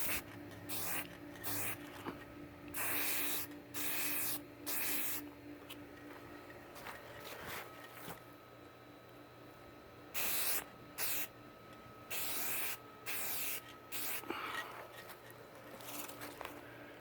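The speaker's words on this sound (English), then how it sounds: "time to shellac. Putting a clear coat on here." Clear shellac is sprayed from a can onto an old Style neon beer can sign in repeated short hissing bursts, each about a second long and evenly spaced, close and fairly loud over a faint background hum.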